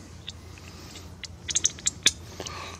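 A 1/2 inch ratchet on a 1/2 to 3/8 extension turning a spark plug on a 2008 Silverado 5.3L, giving a brief run of quick clicking ratchet ticks close by over faint background hum, with no speech.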